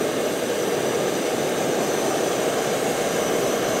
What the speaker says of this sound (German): Also für einen Benzinkocher ist das so ziemlich der leiseste, den man kriegen kann.